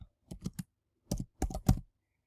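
Keys on a computer keyboard are tapped in quick clusters: a burst of three strokes, a pause, then two denser runs of keystrokes, close and fairly quiet with no talking.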